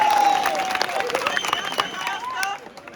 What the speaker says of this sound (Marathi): स्वतःसाठी टाळ्या वाजवा